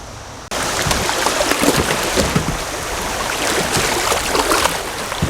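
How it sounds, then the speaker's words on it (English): A kayak paddles through shallow riffle water on the Little Miami River in Ohio, with close, continuous rushing and splashing water and occasional knocks and scrapes of the boat and paddle. "Sounds like we got some shallow water coming up."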